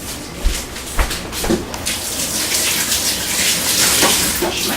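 Tap water runs steadily into a kitchen sink while hands are washed, with a few soft splashes and knocks at the start before an even gushing flow.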